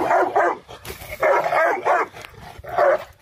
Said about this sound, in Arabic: اه طبعا زي ما شايفين ده كلب بلدي